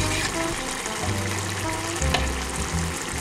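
Ground beef frying in a pan for lasagna, a steady close crackling sizzle with faint clinks of stirring, continuous and fairly loud with no talking.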